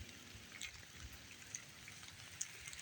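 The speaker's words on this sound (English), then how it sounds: "It's raining." Light rain falls outdoors, a soft, faint patter with scattered drips and small splashes close by; no speech.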